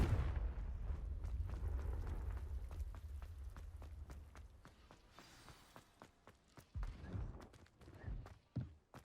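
Confringo fire blast spell cast in Hogwarts Legacy, a burst of fiery impacts rumbling low and loud at first, then thinning into a run of sharp cracks and thumps with scattered footsteps.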